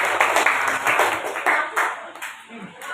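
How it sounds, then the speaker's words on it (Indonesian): A small group claps hands in a classroom setting, with uneven, separate claps and short bursts rather than a dense roar, close and fairly loud, tapering off toward the end. "Berikan tepuk tangan."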